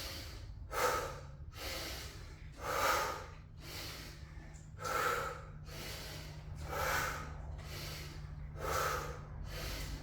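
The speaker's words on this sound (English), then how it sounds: "Just see how I'm breathing, trying to breathe on both exercises when I go up and I get down." Heavy rhythmic breathing during garage workout exercises, loud forceful exhales and gasping inhales repeating roughly every two seconds over a low steady hum.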